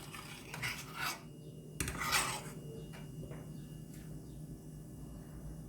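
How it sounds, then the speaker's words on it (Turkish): Metal cookware clanks and scrapes as a soup pot is set back on the stove, a louder knock near the middle, then soft shuffling clinks in a quiet kitchen. "Tekrar tencereyi ocağın üzerine alacağım."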